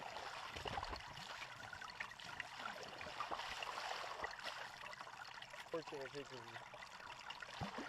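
Water trickling from a small stream at a snowy campsite near Bassi Falls, a steady broadband babble running throughout, with faint voices and scattered handling noises over it.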